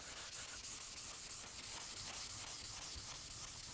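Rusty steel is scrubbed by hand with a 3M Scotch-Brite-type abrasive pad, a steady close rasping scour of repeated strokes running throughout without talk.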